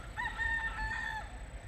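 A rooster in Hawaii lets out a single close crow, about a second long, over a low outdoor rumble, with no talking.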